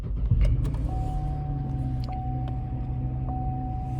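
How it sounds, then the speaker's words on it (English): A 2015 Chevrolet Camaro V6 idles after startup in snowy weather, a steady low engine rumble filling the cabin with a thin, constant electronic tone running over it. "I'm gonna turn on the car real quick."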